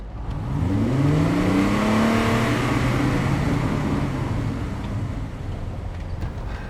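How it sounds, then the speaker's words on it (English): A taxi's car engine revs and pulls through the gears on a test drive, loud and close, with rising and falling engine tones over steady road rumble and no talking. "So let's take it for a test drive and see how we get on."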